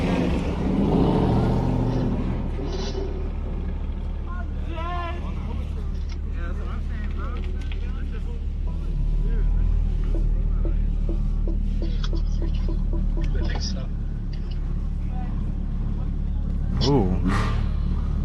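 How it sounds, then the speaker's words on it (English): A Mazda RX-7 pulls out of a busy car meet, its engine humming and revving close by as it drives away, with people chatting loudly over it and other cars idling in the background. "Another RX-7 coming out."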